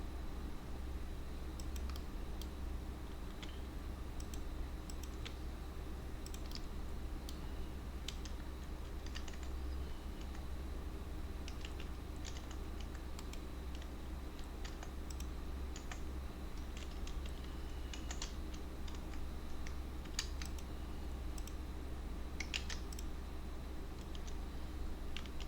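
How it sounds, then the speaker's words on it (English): Steady keystrokes on a computer keyboard, with the K key pressed repeatedly while sculpting, clatter in a continuous close-up stream of light clicks over a low hum for the whole stretch, with no voices. "I press some K in keyboard"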